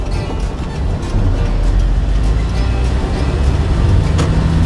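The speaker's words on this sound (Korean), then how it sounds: "자, 엑셀 밟으세요" A car pulls away from a stop as the accelerator is pressed, its engine rumbling low and steady from inside the cabin, growing slightly louder after the first second.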